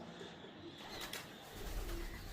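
Pigeons roosting in a ruined Mughal-era building in Burhanpur, once Shah Jahan's hall for special guests, give soft cooing calls over a steady, hissy background, with no voices.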